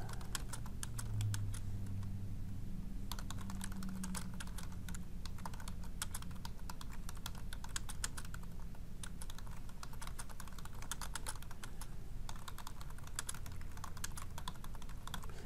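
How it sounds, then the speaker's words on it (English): Text is typed into a word-processing document on a computer keyboard: steady, continuous clattering keystrokes with brief uneven pauses, close and fairly quiet over a low background hum. "let's just type some text in here"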